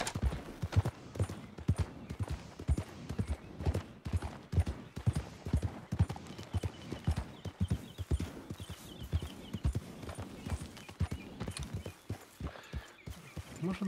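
Horse hooves clip-clopping steadily in Red Dead Redemption 2, a long run of regular, fairly close thuds at a trotting pace, with a faint whinny in the background.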